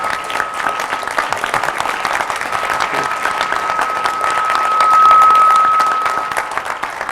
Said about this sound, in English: We forgot to give an applause to the wife.